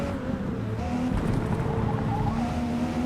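Race cars in Forza Motorsport roaring along a track, a continuous dense engine drone with shifting pitch and hints of tire squeal, loud and steady throughout.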